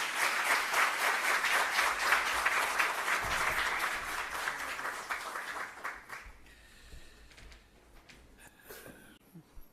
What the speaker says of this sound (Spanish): Les recibimos con un aplauso sentido.